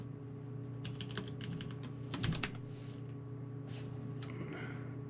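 Rapid bursts of keystrokes on a computer keyboard, clustered in quick runs with short pauses, close and moderately loud over a steady electrical hum, with no talking.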